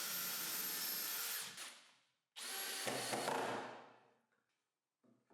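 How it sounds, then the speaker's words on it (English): A power drill bores holes in wood during a miter saw workbench build. Two close, whining bursts of about two seconds each are separated by a short silence, with a faint tap at the end. "First, I'll mark the position of the screw so I can drill some holes."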